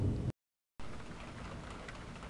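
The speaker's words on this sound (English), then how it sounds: "The rain's starting to fall." Rain starting to fall during a thunderstorm, a soft, even hiss of drops with a brief dropout near the start, faint and continuous afterward.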